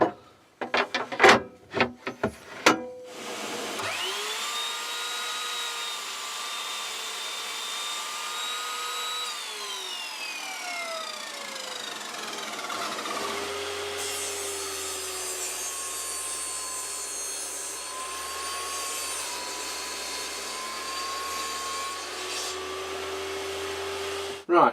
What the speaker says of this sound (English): So I'll get my crosscut saw set up and we'll get it cut down, and then we'll get the circular saw set up and get it cut down on that